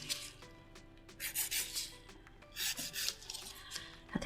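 A metal nail file rasps across fingernails in soft, close, uneven strokes, with quiet bursts of scraping and brief pauses between them.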